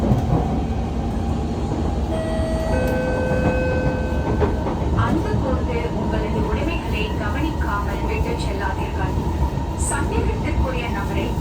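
An SMRT Kawasaki Heavy Industries Kinki Sharyo C151 metro train runs on its rails, a steady loud rumble with rhythmic clicking and faint whining motor tones, heard from inside the car.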